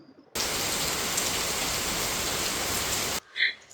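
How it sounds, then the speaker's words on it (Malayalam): Heavy rain pours down in a loud, steady roar that starts abruptly and cuts off just as suddenly, with a brief faint noise after it stops. "നല്ല മഴയാണ്"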